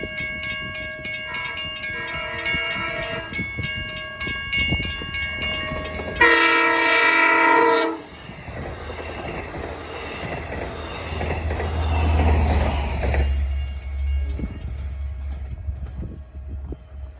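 Long Island Rail Road train on the Montauk Branch sounding loud multi-tone horn blasts for the railroad's 190th anniversary, followed by a louder horn burst and the heavy rumble and squeal of the train passing close by.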